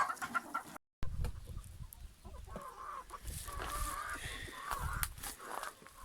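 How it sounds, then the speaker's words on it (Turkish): Chickens cluck and murmur softly as they come out onto a farmyard, giving scattered low calls with some faint background rustling. "Evet şimdi tavuklarımız çıkıyorlar."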